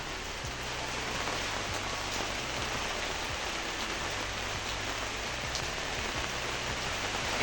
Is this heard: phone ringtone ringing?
no